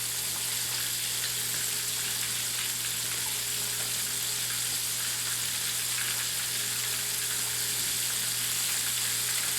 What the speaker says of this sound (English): So we have a really good sizzle going on here.